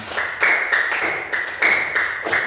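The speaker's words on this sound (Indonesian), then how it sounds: "Beri tepuk tangan untuk kita semua." A classroom of students claps together after presentations, loud rhythmic group clapping in a steady beat of several bursts, close and without talk.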